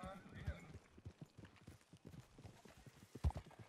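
Horse hooves clip-clop in a western video game set during a bank job in Rhodes, a steady rapid trot of close, muffled hoofbeats with a brief whinny, under a voice talking.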